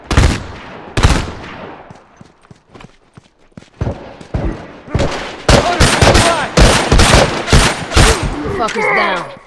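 Rapid gunfire from The Last of Us, with loud, dense bursts of shots that grow more intense and continuous in the second half, mixed with game effects.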